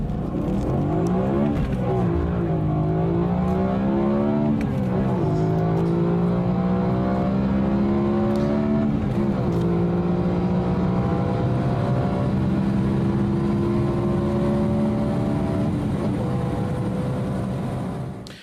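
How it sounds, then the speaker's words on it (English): A car engine, not a motorbike, revs repeatedly, its pitch climbing and dropping in a series of strong rising sweeps, loud and continuous, with no talk over it. "let's hear that car engine sound one more time"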